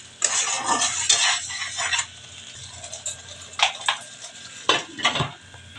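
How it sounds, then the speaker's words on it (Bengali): Spices sizzle as they are sautéed in a pan for a mustard hilsa curry with eggplant. A steady fry runs through the first two seconds, then quieter sizzling is broken by several sharp spoon scrapes against the pan. "আমি এখন একটু কষিয়ে নেব।"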